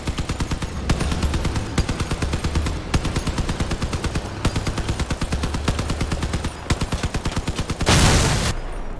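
Rapid continuous weapon fire from vehicle-mounted guns in the combat game Crossout, a dense steady stream of loud, evenly spaced shots with brief breaks, ending in a short burst of hissing noise.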